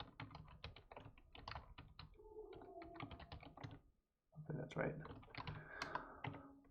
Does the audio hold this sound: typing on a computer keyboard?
yes